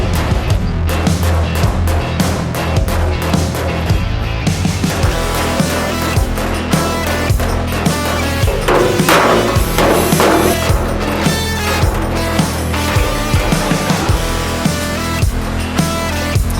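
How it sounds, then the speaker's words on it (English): Loud, rapid metallic hammer blows strike a dolly while car body metal is straightened on a Fox Body Mustang, ringing in a dense, repeated rhythm close by with no talking. "So let's hammer dolly it a little bit."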